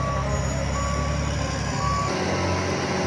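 Steady electronic reversing beeps from a toy dump truck repeat at an even pace over a constant low mechanical hum, loud and close, with no voices.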